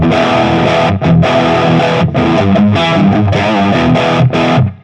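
Electric guitar through an FM9 Plexi 100 amp model with the mids turned up plays loud, heavily driven rock chords in a steady run, with brief gaps between strummed phrases.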